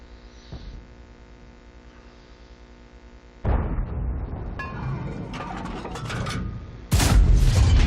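Heavy booming cannon shots from a tank firing high-explosive rounds at an enemy turret in World of Tanks, two loud blasts breaking over a low steady hum.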